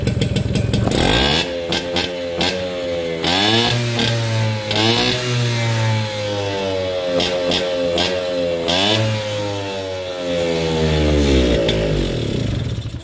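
Peugeot 103 moped with a 46 cc cylinder, fired up with a kick starter, its small two-stroke engine running loud and close, revving up and down repeatedly with a rasping buzz, no talk.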